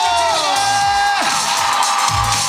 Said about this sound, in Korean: 여러분 선생님께 큰 박수 부탁드리겠습니다.